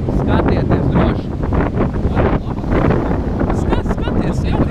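Wind gusting over the open sea, a steady loud broadband rush with microphone buffeting throughout, and faint voices underneath.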